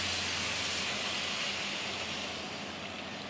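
Water hits hot cumin and spice mix in a pan, giving a loud, steady sizzling hiss close by that eases slightly toward the end.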